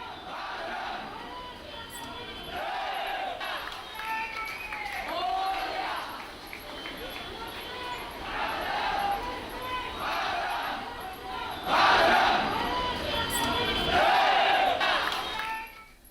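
A large crowd of commuters at a station in Neral cheering and shouting at the Chandrayaan-3 launch shown on a screen, rising waves of massed voices and cries, loudest toward the end.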